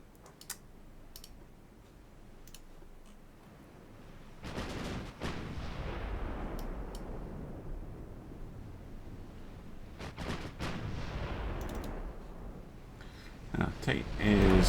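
Naval gunfire from a warship shelling a battleship in a dreadnought-era Japanese naval strategy game: two heavy, rumbling salvos a few seconds apart, each with a long rolling tail, over steady background noise and small clicks.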